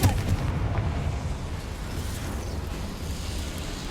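A Confringo blasting spell explodes in the Hogwarts Legacy video game: a loud, sharp boom at the start that rolls into a sustained, rumbling burst.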